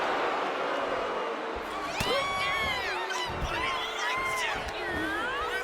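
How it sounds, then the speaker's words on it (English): A wrestling arena crowd in the video game WWE 2K25 roars and cheers continuously, with whoops and shouts rising over the steady din. "I think the crowd knows what's coming."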